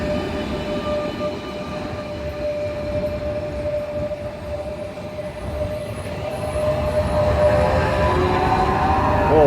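A Renfe Class 447 electric multiple unit passes at Tarragona on the Mediterranean Corridor, with a rising rumble of wheels on rail and a sustained whining tone that grows louder as it nears.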